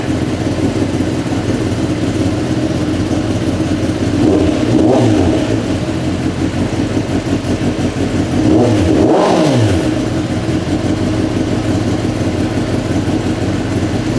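A Kawasaki ZX10R sportbike fitted with a Leo Vince exhaust idles loudly and steadily, then rises into two sharp throttle blips that rev up and drop back down a few seconds apart.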